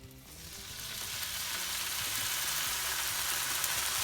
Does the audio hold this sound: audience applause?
no